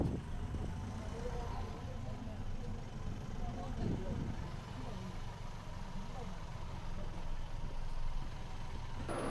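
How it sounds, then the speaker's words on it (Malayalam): Bus engine running steadily at a mountain stop near a Murugan temple in Tamil Nadu, a continuous low idling rumble throughout with some indistinct voices mixed in. "ബസ് ഇവിടെ എത്തി."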